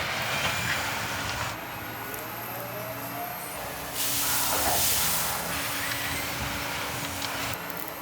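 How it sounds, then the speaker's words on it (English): A freight train offloading at a rail yard, heard as a steady rumbling hiss with air-brake-like bursts and low mechanical drones, fairly distant and broad. "So let's have a look at that train offload."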